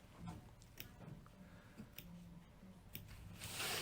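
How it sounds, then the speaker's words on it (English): Small sharp scissors make quick, close snips through fabric along a stitching line for a tea towel project, a scattered run of short crisp cuts up close with no talking. "Just little snips."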